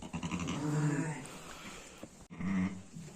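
A newborn lamb and its ewe bleat nearby, two loud wavering cries separated by a short pause, with soft background rustle.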